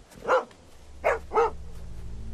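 A dog in The Walking Dead video game barks three times, one bark, a pause, then two quick barks, fairly close and clear over a low background hum.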